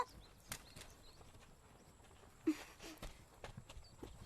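Hooves of a horse pulling a cart clip-clop in a loose, uneven walking rhythm, moderately near and fairly quiet, with a few sharper knocks and rustles between the steps.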